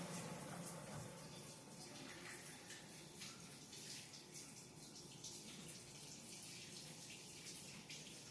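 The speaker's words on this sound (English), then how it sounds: "Wash my hands." A kitchen tap runs steadily while hands are washed, a continuous soft hiss and splash of water into a sink, fairly faint and unbroken throughout.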